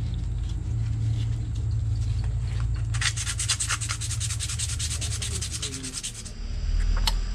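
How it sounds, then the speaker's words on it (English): Sanding a handmade wooden fishing lure smooth, steady rough rubbing strokes over a low background rumble, growing louder and more rapid in the middle before easing off. "Now we just gotta sand it smooth."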